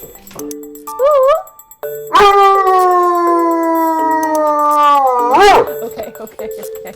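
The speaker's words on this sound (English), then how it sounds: "He was howling." A dog lets out a short, wavering howl, then a long, drawn-out howl that holds for about three seconds and rises into a final wail, heard up close.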